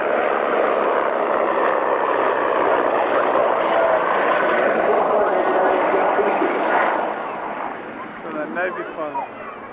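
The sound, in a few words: helicopter flying overhead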